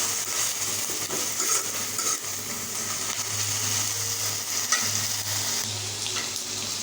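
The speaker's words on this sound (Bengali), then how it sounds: "রসুন বাটা। এটা একটু ভাজা ভাজা হবে, কারণ কাঁচা গন্ধটা চলে যাবে।" Garlic paste sizzles steadily in a hot pan alongside onion paste, a continuous close frying hiss with occasional stirring scrapes and no talking.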